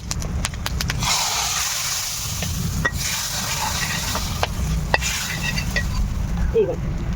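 A mustard seed and asafoetida tempering is added to spinach dal cooking over a wood-fired stove, giving a continuous sizzling hiss, broken by scattered clinks of a spoon stirring against the pot.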